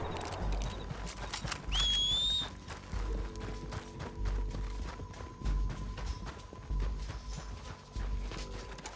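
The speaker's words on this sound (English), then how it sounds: "We need our horses." Horses clip-clopping in Red Dead Redemption 2, with steady rhythmic hoof beats close by, a brief whistle-like whinny early on, and a faint tonal hum beneath.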